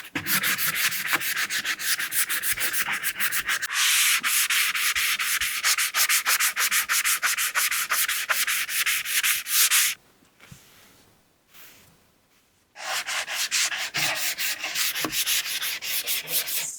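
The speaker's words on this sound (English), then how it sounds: "Then as you sand each area" Hand sanding painted wooden furniture with sandpaper, steady rapid back-and-forth rasping strokes, close and loud, with a brief pause before the scrubbing resumes.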